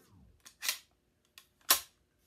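LCT SR-3 airsoft rifle stock being extended, two crisp mechanical clicks about a second apart, close and clear, with a soft sliding sound before the first.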